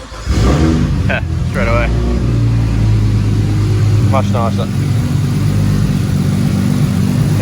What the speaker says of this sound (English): Exhaust sounds mint.